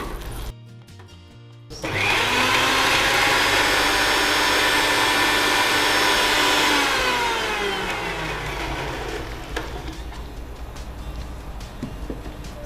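A mixer grinder blending palak paste whirs loudly and steadily after a short start, then slowly winds down and tapers as the motor slows.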